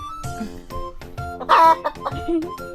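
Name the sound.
chicken clucking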